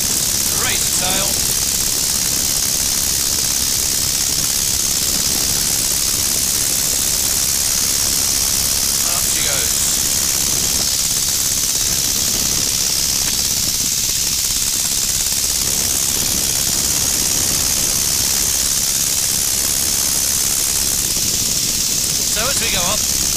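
Constant loud engine and wind roar of a Tiger Moth biplane at full power, a steady hissing drone throughout with brief voices over the intercom now and then.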